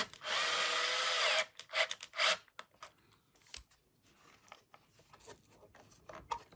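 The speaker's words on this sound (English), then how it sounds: "I'm going to use one of the old larger screws and see if we can't get it in that way." Power drill driving a screw into the bottom plate of a Bissell Pet Hair Eraser Turbo vacuum, a loud steady whine for over a second, then short clicks and handling noises of plastic parts.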